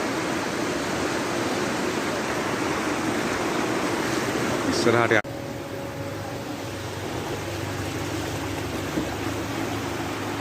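Floodwater rushing along a road near the Lewatta side toward the river, a broad steady roar of flowing water, with a voice speaking briefly partway through.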